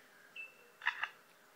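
A lyrebird in the forest mimics a camera shutter: a brief thin whistle, then two crisp mechanical clicks in quick succession, close and clear against a quiet background.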